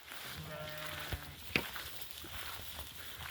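A flock of young Boğaz-breed yearling sheep bleats in a few wavering calls, heard close by over a steady outdoor murmur with a brief knock partway through.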